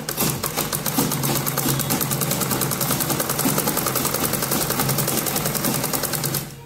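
A sewing machine stitches lehenga fabric and its lining, a fast even clatter of needle strokes running steadily for several seconds before stopping, close up, with no talking.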